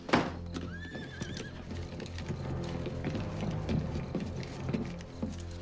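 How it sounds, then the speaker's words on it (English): A horse gives a short whinny at the start, then hooves clop and shuffle quietly in the background. "Horses are waiting down the street."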